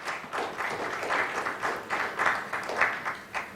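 Audience applause at a BFSI leadership summit panel discussion, a moderate burst of clapping with uneven pulses through the clip, fairly close and free of talk.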